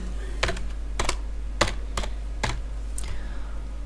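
Computer keyboard keys tapped one at a time while entering a math expression, six distinct clicks spaced roughly half a second apart over a low steady hum.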